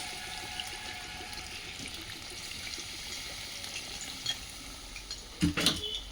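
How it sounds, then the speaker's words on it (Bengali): Water is poured into a pan of well-fried mutton and new potato curry, giving a steady hiss and sizzle with faint liquid stirring, then a louder splash and clatter near the end. "এবার আমি এখানে জল দিয়ে দিচ্ছি।"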